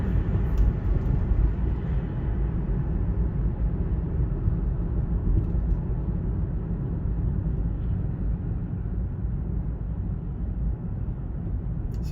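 A Boeing airliner passes overhead in Manhattan, New York City, making a steady low roar that holds for the whole stretch, loud and distant-sounding without any talk over it.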